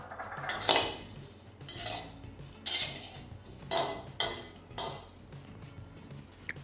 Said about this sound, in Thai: คั่วจนสุกเลยนะครับ